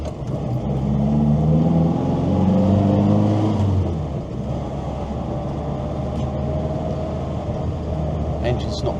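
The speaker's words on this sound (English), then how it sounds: "Engine's not quite warm yet, but the heater's coming through." A Morris Minor pulls away from rest on a country road, its small engine revving up through the low gears with a steady, close drone inside the cabin; the revs climb in the first seconds, then settle to an even cruising hum.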